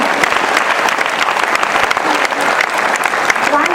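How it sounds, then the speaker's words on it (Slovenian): A crowd claps steadily and enthusiastically, a dense, continuous burst of applause at close range. "Še en velik aplavz za vse naše fajnke."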